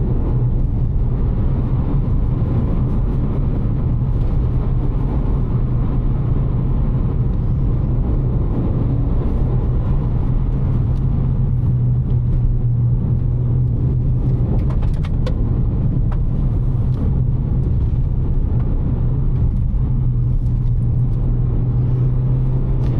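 A Suzuki Swift Sport driving on a damp road with reduced traction and a knocking steering rack, giving a steady low engine drone and road rumble throughout from inside the car, with no talk.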